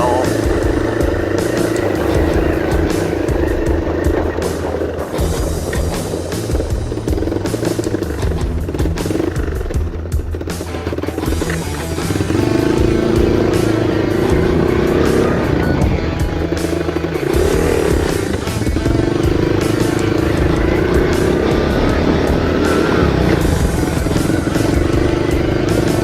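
A 1984 Honda ATC 125M three-wheeler engine drones steadily and loudly while being ridden, its pitch rising and falling with throttle changes and gear trouble, with a possible voice faintly underneath.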